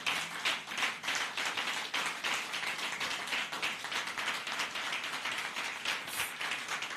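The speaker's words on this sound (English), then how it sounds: "give this association a resounding round of applause that it deserves" Audience at a 55th anniversary conference and exhibition rising to give a standing round of applause, dense steady clapping close by that carries on for the whole stretch with no talk.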